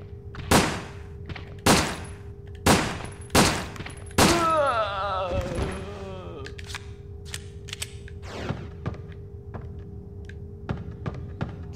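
Five loud, separate gunshots ring out at zombies in Resident Evil Dead Aim on PlayStation 2, spaced about a second apart. Game sounds and scattered quieter thuds follow afterward.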